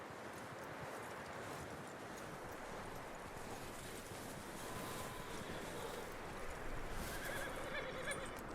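A horse whinnies in Red Dead Redemption 2 amid steady outdoor ambience of wind and rushing water, with the neigh rising near the end against a constant background wash.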